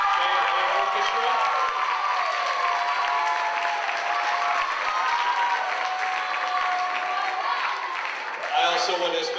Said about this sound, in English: Let's give one big round of applause to our students and our orchestra.